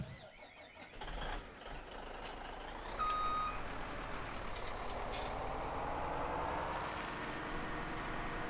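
A truck reverses in Farming Simulator 17, its backup alarm beeping over a steady engine rumble with a short hiss like an air brake, all heard fairly faintly.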